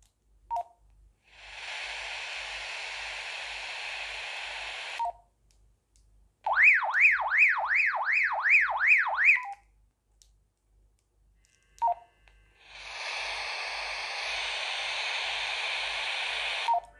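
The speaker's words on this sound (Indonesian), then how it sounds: "Ini alarmnya nih." A Baofeng BF-F8HP handheld radio's alarm alternates long bursts of harsh noise with a rapidly warbling siren tone, broken by short beeps and silent gaps, loud and close.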